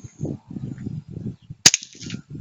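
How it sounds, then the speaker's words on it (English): A single sharp gunshot is fired at white armor during an armor penetration test, one loud crack that rings out briefly, with a voice talking before and after it. "now we're gonna shoot the white armor"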